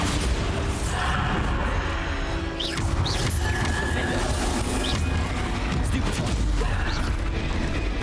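Bombarda spell blasts in Hogwarts Legacy, a wizarding action game, heard amid constant loud combat noise: booming impacts, crashes and mechanical rattles, with a few sharp whooshing magical zips cutting through.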